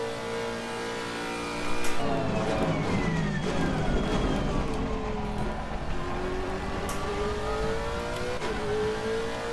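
A GT3 race car engine at Kyalami in Assetto Corsa Competizione revs steadily throughout, its pitch sweeping down and then climbing again through the gears, loud and continuous with no voices over it.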